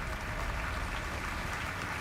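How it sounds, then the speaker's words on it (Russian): Applause in the video game Alan Wake 2 on a theatre stage, a thick, continuous roar of clapping that stays level and full for the whole moment with no voices over it. "Аплодисменты, это я вхожу"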